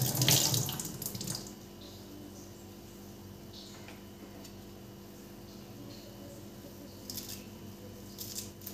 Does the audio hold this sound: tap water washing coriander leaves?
yes